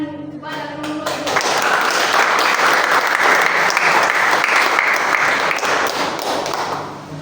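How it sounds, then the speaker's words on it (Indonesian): Loud, dense clapping from a classroom audience applauding a student group at a school project presentation, rising quickly after a second and holding steady before tapering at the end. "Beri tepuk tangan kepada kelompok 2."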